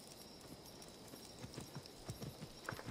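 Faint rhythmic hoofbeats from a horse in the video game Assassin's Creed Odyssey clip-clop in and build closer toward the end, under a soft steady background hiss with no talk.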